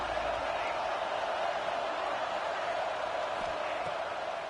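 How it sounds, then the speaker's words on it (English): A packed football stadium crowd roars steadily on second down to help its defense, a dense continuous wash of cheering throughout. "Listen to this crowd just shaking the girders of this place"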